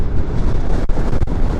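Strong wind buffets the microphone at a mountain viewpoint along the Nueva Vizcaya–Pangasinan road, a loud, steady roar with brief dips and no voices.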